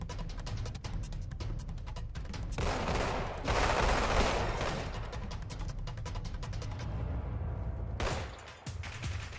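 Dense gunfire in the Roblox game Combat Arena, with rapid bursts of shots, some booming blasts and a brief lull near the end, loud and continuous with no talk.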